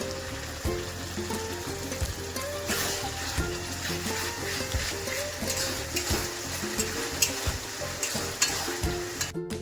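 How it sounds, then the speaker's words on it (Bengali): Onions, tomatoes and dried chillies fry in oil in a pan for chicken kosa, a dense continuous sizzle with frequent spatula stirring and scraping, close and steady throughout, with no talking. "পেঁয়াজ, টমেটো আর শুকনো লঙ্কা ওটা দিয়ে ভালো করে কষে নেবো"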